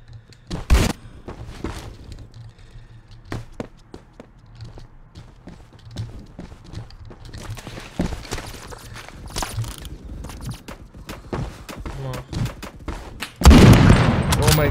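Gunfire from the Roblox shooter Phantom Forces, scattered shots and short bursts throughout with a heavy, loud volley near the end, mixed with footsteps and game noise.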